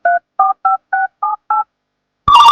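Six short, evenly spaced telephone keypad tones beep loudly in quick succession, then a louder ringing tone begins after a brief pause.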